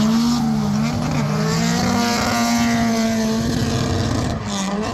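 A twin-turbo drift car with turbos protruding through the hood revs hard at a grassroots drift event, its loud, close engine note rising and falling in a sustained howl with tire noise mixed in.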